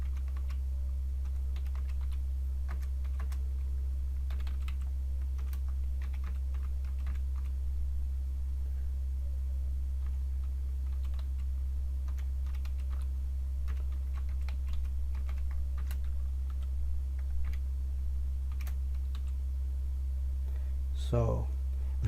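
Steady computer keyboard typing while writing Python or R code, a continuous patter of small key clicks over a low constant hum, with no voice.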